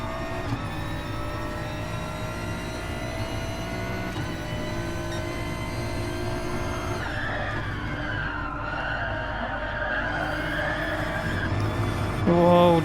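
Race car at Brands Hatch running off the track onto gravel, a sustained engine drone with scrabbling tyre and gravel noise heard at a distance, steady and moderately loud throughout.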